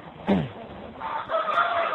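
Laying hens on a chicken farm give a loud close cluck, followed by drawn-out cackling calls and a softer crowing note.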